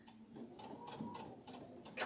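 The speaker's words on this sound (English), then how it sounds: "I'm going to sew up to that point." A sewing machine stitching through fabric for an Americana pillow, running in short rhythmic bursts of quiet mechanical clicking and whirring, faint and close.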